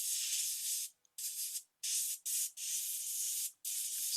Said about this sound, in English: spray paint your minions very quickly